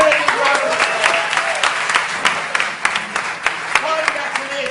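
An audience at a Jamaican stage play applauds a class, with sharp individual claps scattered over a lively background of voices and chatter.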